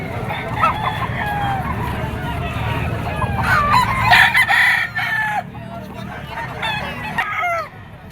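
Gamefowl roosters, including stags, crow repeatedly at a busy fowl market in Padre Garcia, Batangas, with overlapping near and distant calls and some clucking over a constant crowd murmur.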